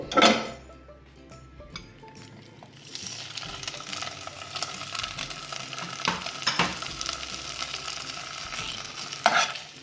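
Onions tip into a hot pan and are stirred for a snake gourd curry, a brief clatter giving way to a steady close sizzle with scraping stirs and occasional utensil knocks.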